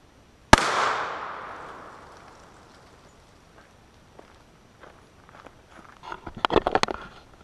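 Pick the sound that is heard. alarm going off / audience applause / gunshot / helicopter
gunshot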